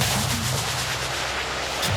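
A rocket launched during combat in the Russian invasion of Ukraine, a short heavy roaring blast with dense low rumble filling the moment, loud and close, no voices.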